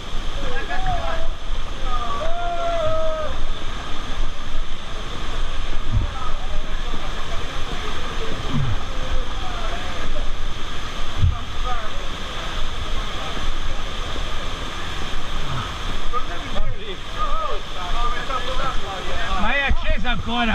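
River rapids and a waterfall roar steadily while rafting on the Lao River, a loud, continuous rushing wash of water with no break.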